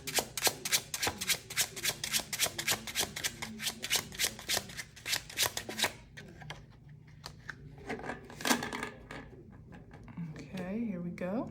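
Tarot cards being shuffled in a rapid, steady riffle of crisp flicks for about six seconds, followed by slower card handling and light rustling under quiet talk.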